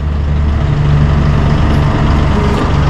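Massey Ferguson 1840 tractor drones steadily in a low, heavy idle-like rumble while powering a BH.3222 backhoe's hydraulics, close and continuous throughout.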